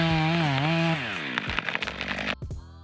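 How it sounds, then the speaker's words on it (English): A chainsaw cutting into an oak tree in a front yard roars close and loud, engine pitch sliding and bogging as it bites the wood, then breaks into rough sputtering bursts before cutting off. "I'm so glad he put that chainsaw on there"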